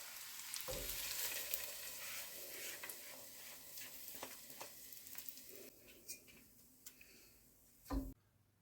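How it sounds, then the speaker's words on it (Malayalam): Kashmiri chili powder sizzles and fries in hot oil as a tempering for a Kerala dried fish and mango curry, a steady close crackle with stirring clicks and a sharp clatter near the end. "നമുക്കിതിലേക്ക് ഒരു ശകലം കാശ്മീരി മുളക് പൊടി ചേർത്ത് കൊടുക്കാം. ഒന്ന് സോട്ട് ചെയ്യാം."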